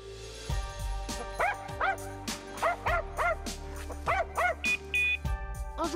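A Belgian shepherd rescue dog gives a run of repeated yips and barks, some whimpering, close and fairly loud against a steady background hum.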